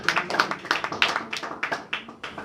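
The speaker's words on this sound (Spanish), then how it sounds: "dale un aplauso" A church congregation claps in a steady rhythm, a dense run of sharp, close hand claps repeating at a brisk pace with no voices over them.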